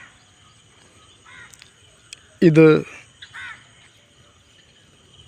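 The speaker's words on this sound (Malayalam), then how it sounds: "കിളികളുടെ കളകളാ ശബ്ദം" Crows caw in a loud, close burst over a paddy field at dawn, with fainter bird chatter before and after and a low background hum; a person speaks briefly.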